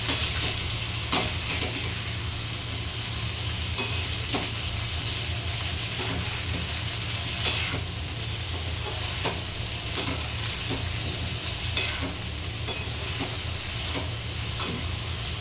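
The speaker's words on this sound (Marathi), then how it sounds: "तर बघा, आता असं परतून घेऊया आपण" Cauliflower sabzi sautéing in a pan over low gas, with a steady close sizzle and occasional scraping stirs of a spatula across the pan throughout.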